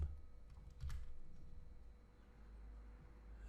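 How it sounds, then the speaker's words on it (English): Arrow keys on a computer keyboard are pressed in a few quiet, close clicks during plumbing design work in Revit, with a low hum beneath and no talking. "I'm using my arrow keys to go up."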